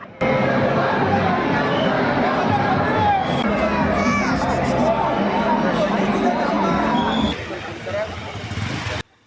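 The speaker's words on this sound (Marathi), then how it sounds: "पहिल्यांदाच इतकी सगळी गर्दी अनुभवत होतो" A dense festival crowd packs the streets during Pune's Ganpati celebrations near Dagdusheth Halwai and Kasba Ganpati, a loud steady roar of overlapping voices, shouts and chatter that drops away near the end.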